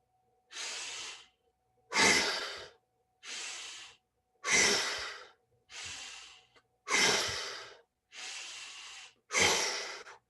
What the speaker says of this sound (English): breathing in through the nose, head goes up, out through the mouth, head goes down. My sort of call this fire breathing